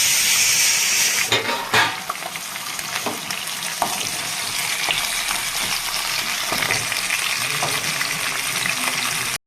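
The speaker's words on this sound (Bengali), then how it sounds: "তেল দিয়ে দেবো মাছের মাথা ভাজার জন্য" Rohu fish heads fry in hot oil in a wok, giving a loud, steady sizzle and crackle with a few sharp pops and spatters near the start, continuing without pause to the end.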